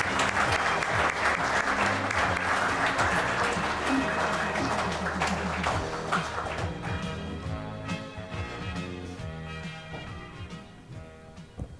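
An audience at a community sustainability awards ceremony in Kalgoorlie Boulder applauds, a dense, sustained burst of clapping that gradually thins and fades over about twelve seconds, with background music and a faint voice underneath.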